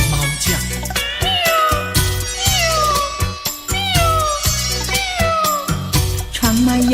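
Repeated meow-like cries of a stray cat outside a window, probably imitated by a voice or instrument, come in falling glides over a steady rhythmic musical backing, loud and near.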